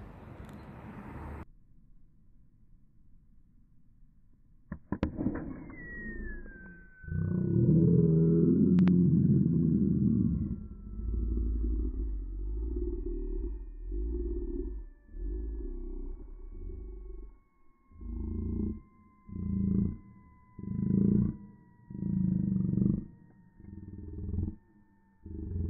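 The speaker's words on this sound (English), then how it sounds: "I hear a hissing sound." A lithium polymer battery hissing before it explodes, a loud roaring, sputtering burst that cuts off and then returns in repeated rough pulses, with a faint whistling tone throughout.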